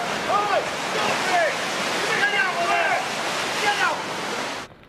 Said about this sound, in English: Torrents raged along streets which became impassable to all but the most determined and cautious